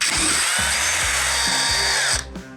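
A power drill whirs loudly at close range while drilling Harley Road Glide trim bezel pieces, its motor pitch dipping a few times as it bites in, then it stops abruptly.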